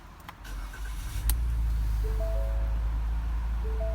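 A 2017 Ford Edge Sport's 2.7-liter twin-turbo EcoBoost V6 cranks with a few clicks and chimes after a push-button start, then catches and settles into a steady low idle.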